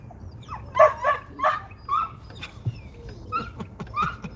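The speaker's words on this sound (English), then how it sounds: "Is that their dog or my dog barking?" A dog outdoors near a national forest visitor center gives a series of short yips, whimpers and barks, about a dozen spaced bursts at moderate distance, with no talk.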